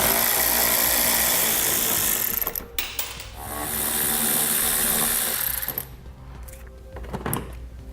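A power tool whirs in long sustained bursts while backing out 8mm bolts from the front fascia of a 2016 vehicle during a base plate installation, with short pauses between runs.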